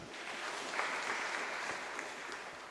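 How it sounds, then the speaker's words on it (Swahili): Steady, even applause from a church congregation during a Kikuyu service, sustained clapping throughout with no talk. "Tuhorera Elder Toro makofi mega."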